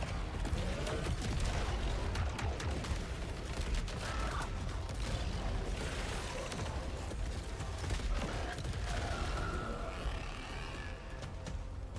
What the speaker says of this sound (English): Alright, shotguns are actually pretty awesome.